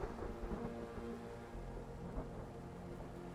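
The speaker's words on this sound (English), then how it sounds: "Are you hearing thunder and rain?" Rain falls steadily with low rumbling thunder rolling underneath, heard in the Sherlock Holmes: The Awakened video game; a dense, continuous storm wash with a couple of soft swells, no voices.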